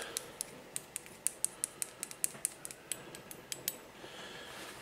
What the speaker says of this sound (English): I'm just going to take an old brush, turn it upside down and mix it up a little bit